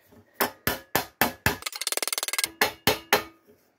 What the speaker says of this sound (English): If all else fails, just whack it with a hammer and it'll come to shape.